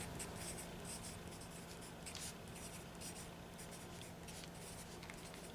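A pencil writes a formula on paper, close and quiet, with a run of soft scratching strokes and brief taps across several seconds.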